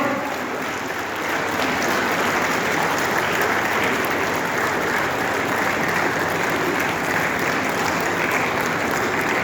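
Sustained applause from a large audience at a state-level patwari association conference, a thick, continuous roar of clapping that holds steady and loud from start to finish with no voices breaking through.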